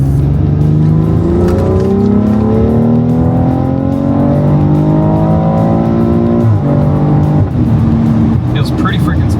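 A BMW X3 M40i fitted with an F660 hybrid turbo, built to about 600 hp, accelerates hard through second to fourth gear, its loud engine note climbing steadily in pitch with brief dips at each upshift.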